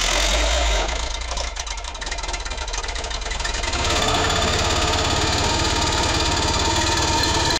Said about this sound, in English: that's definitely a car starting, but that might be the worst sounding car I've heard in my whole life